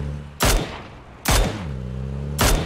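Three loud, booming gunshots from the video game PUBG, spaced about a second apart, each trailing into a short echo.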